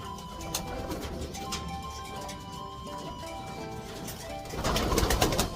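A pigeon coos softly and repeatedly among other bird calls, with faint handling noise and a louder rustle near the end.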